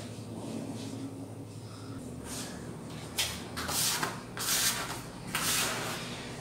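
Pan de muerto dough being kneaded by hand on a work table, with soft rubbing and slapping pressed into it in repeated strokes that grow louder in the second half, over a steady low room hum.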